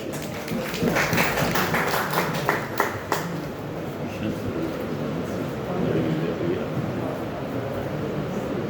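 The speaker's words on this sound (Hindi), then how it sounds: "जोरदार तालियों से आपका स्वागत करें" An audience at a Hindi book-launch gathering breaks into a few seconds of scattered clapping, which fades into room murmur with a voice speaking.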